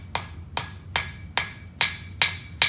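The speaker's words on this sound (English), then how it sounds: "Keep the hammer hitting in the same space and move the piece of sheet metal through the hammer bangs" Hammer striking sheet metal on a box project, seven evenly spaced bright metallic bangs with a ringing tone, close and loud with no voices.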